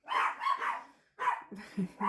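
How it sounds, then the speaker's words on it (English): Dogs bark indoors at home, a few muffled, rough barks in two short bursts, moderately loud and slightly distant, with no talk. "Dogs are barking."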